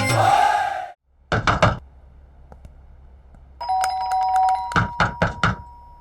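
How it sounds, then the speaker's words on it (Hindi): A doorbell rings several times in short bursts, with electronic chimes and a tone in between, loud and close with quiet gaps. "मैं बजा रहा हूँ ना घंटी।"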